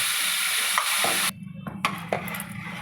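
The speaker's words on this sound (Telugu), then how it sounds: "చాలాసేపు ఇది వేగాలి మంచిగా నూనెలో" Tomato and cashew paste sizzles in oil with whole garam masala, cumin and turmeric, a brief hiss broken by stirring scrapes and a few pan knocks.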